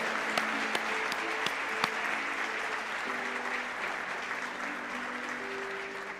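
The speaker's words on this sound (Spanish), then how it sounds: "¿Por qué no le damos un fuerte aplauso al Señor?" Sustained applause from a church congregation fills the space with dense, even clapping, a few sharper individual claps standing out, while faint voices and a low tonal hum sit underneath.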